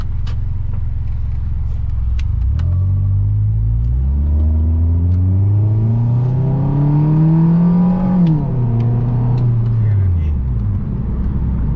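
A car with a newly modified exhaust and a 2.4-litre engine accelerates hard, its loud engine note climbing steadily in pitch before dropping at a gear change and rising again. A person talks over the engine.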